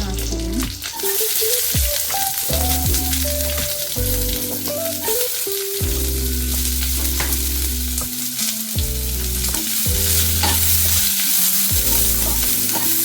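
Chopped onions and curry leaves fry in hot oil, giving a loud, continuous sizzle throughout, with intermittent low tonal hum from the surroundings layered underneath.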